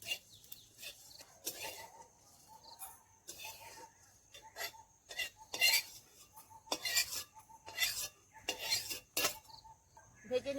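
Jujubes (kul) being stirred and fried in a hot wok for pickle: irregular bursts of metallic scraping and clattering from the utensil against the pan, close and sharp, separated by brief quiet gaps.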